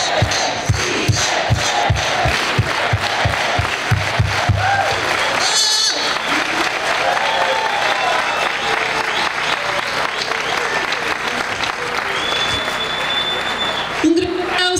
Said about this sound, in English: A big round of applause for Dolores Huerta, ladies and gentlemen.